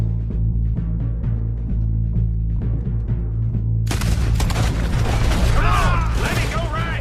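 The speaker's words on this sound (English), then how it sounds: "We're shooting our way out of here, boys!" Gunfire and explosions erupt in the Western video game Red Dead Redemption 2. Loud, dense shots and bangs burst in partway through after a low rumbling stretch, and the heavy firing continues to the end.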